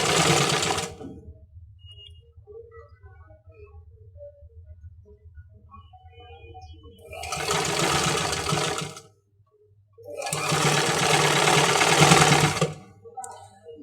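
A sewing machine stitches ruffles onto a baby frock in three bursts of rapid, loud whirring, separated by quieter stretches of low hum and light handling noises.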